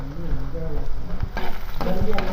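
Tomatoes dropped into a hot frying pan while cooking syarsyadong tulingan, a loud close crackling sizzle with stirring clatter, faint voices in the background.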